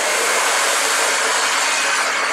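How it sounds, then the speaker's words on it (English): A blow dryer runs steadily at close range, drying very long hair during a salon blow-dry, its loud, even airy roar continuing without a break. "So I wanna make sure the blow dryer is constantly moving in a direction away from the scalp."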